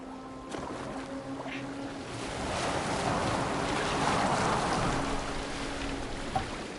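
A boat sails across open water in the video game Assassin's Creed Valhalla, with a steady rushing wash of water and wind that swells slightly midway and continues unbroken, with no voices.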